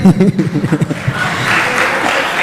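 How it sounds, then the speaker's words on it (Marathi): An audience breaks into loud, sustained clapping right after a short spoken line from a man giving a motivational speech, and the applause fills the rest of the moment. "वाजव टाळी"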